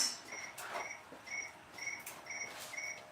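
Crickets chirp in a steady repeating rhythm, about six evenly spaced bursts, moderately close, with faint rustling and no talk, heard near a CNC machine being calibrated.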